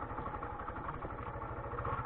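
A motorcycle engine idles steadily before an off-road ride on muddy ground, a low, even chugging pulse close by with a slight clatter and no talking.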